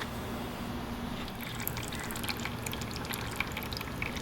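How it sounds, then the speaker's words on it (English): Motor oil drains from the bottom of an open-chamber motorcycle fork, a steady trickling, dribbling liquid with soft drips, close and continuous under a broad hiss for the whole stretch. "there's also quite a bit of oil still on the bottom of the fork, and you just need to drain that out"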